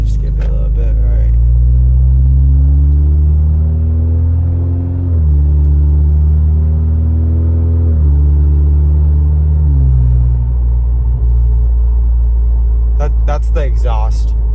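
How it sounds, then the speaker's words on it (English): A Toyota Tacoma truck with an aftermarket exhaust idles with a deep, loud rumble, then revs up and settles in several rising and falling pulls, close to the listener. "Let's see if you guys could hear my exhaust on the truck."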